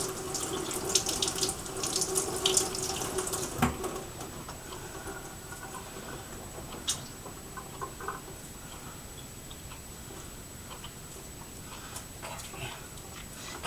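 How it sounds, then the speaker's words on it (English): A kitchen tap runs steadily as a ball of homemade butter is rinsed under it, water splashing louder at first, then settling to a quieter continuous stream with a few small knocks. "I'm just going to rinse it a little bit more."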